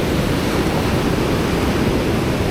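Steady, loud rushing surf fills the clip, a dense roar of breaking water with no pauses.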